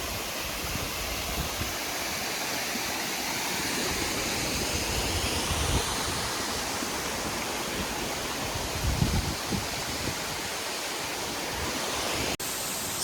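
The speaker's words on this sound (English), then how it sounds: "there's another waterfall." A waterfall roars steadily nearby, a broad continuous rush of water with slight swells, no speech.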